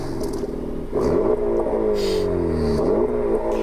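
A Honda Civic Type R engine revs steadily, its pitch rising and falling in a few swells, loud and close with a buzzy, rattly tone.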